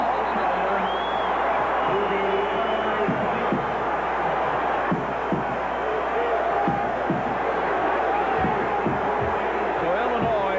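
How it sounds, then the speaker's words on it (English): Roaring crowd at Kinnick Stadium during a 1991 college football game between Iowa and Illinois, a dense, steady wall of crowd noise running loud the whole time, with a commentator's voice faintly under it. "And this crowd is deafening."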